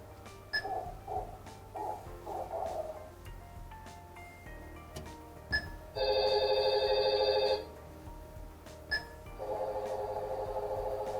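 In an exhibit simulating how elderly people hear, a phone ringtone plays in short bursts, first muffled and quiet, then in a clear, louder ringing burst, then muffled again, alongside faint ticking clicks.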